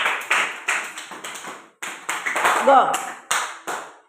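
A small classroom of children claps for a student in a run of sharp, uneven bursts of hand claps, close and moderately loud, with a short pause midway and a teacher's voice briefly heard.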